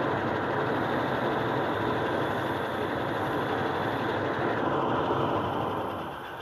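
An engine with a carburetor runs at idle while its intake is covered, giving a steady, loud, dense rumble that holds even throughout and then drops slightly in level near the end.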